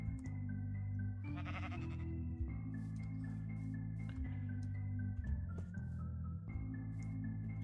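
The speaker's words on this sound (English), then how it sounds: "Now we can push the sheep off." Sheep in a Minecraft-style game bleating repeatedly, several distinct wavering bleats spread across the stretch over a continuous tonal background hum.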